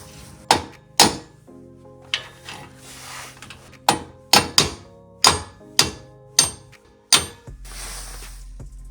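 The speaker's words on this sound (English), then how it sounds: "I'm gonna carefully hammer these out because they're only 1 year old." Old aftermarket ARP wheel studs are hammered out of a Factory Five 818 suspension hub: about a dozen sharp, close metallic blows in uneven bursts, each ringing briefly before the next.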